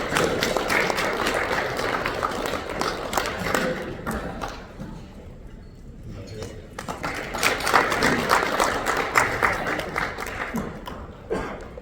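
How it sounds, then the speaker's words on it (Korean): An audience at a morning alumni lecture on unification applauds as lecturer Kim Cheon-sik is welcomed, in two swells of crisp clapping separated by a brief quieter lull. "큰 박수로 맞이해 주시기 바랍니다"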